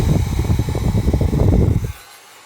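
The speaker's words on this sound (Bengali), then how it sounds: "আসলে অনেক সুন্দর বাতাস দিচ্ছে ফ্যানগুলো" Electric turbo fans whir steadily up close with a dense, fluttering low rumble, then cut out abruptly near the end, leaving near silence.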